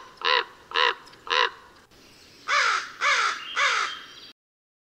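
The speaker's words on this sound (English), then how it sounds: "Ravens have a deep, rough croak, and crows give a higher, faster, smoother caw." Crow caws in two clear bursts of three, the first set slightly clipped and the second harsher and longer, loud and close with nothing else in the background.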